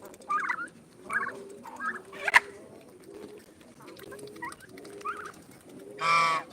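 A turkey gobbles in a farmyard among other fowl and ducks, giving several separate bursts of calls spread out over several seconds, with a louder, fuller burst near the end.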